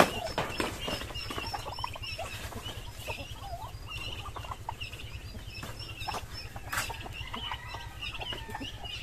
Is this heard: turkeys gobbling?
yes